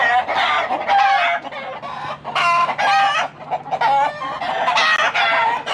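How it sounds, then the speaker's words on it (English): Chickens cluck repeatedly and loudly nearby, with a rooster's crowing mixed into the busy, rhythmic barnyard calls. "Okay, so apparently we gotta deal with chickens."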